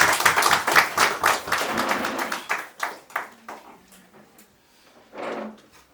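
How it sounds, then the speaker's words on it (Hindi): Audience applause welcoming a speaker at a human rights awareness training programme: dense clapping that thins out and fades after about three seconds, followed by a brief burst of noise. "तो जोरदार तालियों से स्वागत कीजिए मिस्टर राकेश कुमार सिंह"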